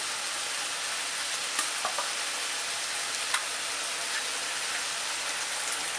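A pan of family-recipe bolognaise sauce sizzles steadily and loudly as a tin of tomatoes goes in, with a few faint clicks and taps over the continuous hiss, and no talking.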